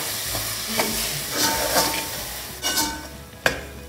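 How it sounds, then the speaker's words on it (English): Peanut masala being stirred in a pan, with a few scraping strokes and a gentle background sizzle, fairly close and with no voices. "Stir it for a while."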